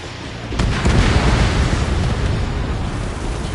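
An enemy bomber exploding in the Ace Combat video game: a broad, rumbling blast that swells suddenly and then trails off into a long, noisy roar with no voices over it.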